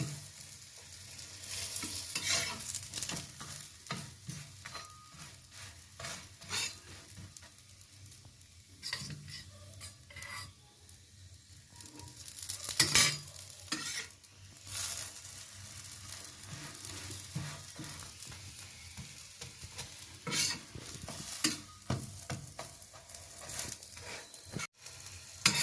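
Green pea stuffed parathas fry in a pan, crackling and sizzling close by in uneven bursts, with occasional scraping and turning noises over a quiet background.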